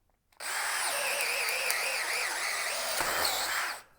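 A DeWalt Atomic cordless hammer drill runs on a 2 amp hour battery pack, a close, loud, steady high whine under load for about three and a half seconds before spinning down.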